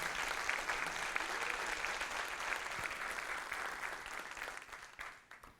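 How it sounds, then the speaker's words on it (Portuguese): A church audience at an evening worship service applauds in a sustained, dense wash of clapping that holds steady and then tapers off near the end, heard at a moderate distance. "aplauda Jesus, porque Ele é digno de toda a honra e de toda a glória nessa noite."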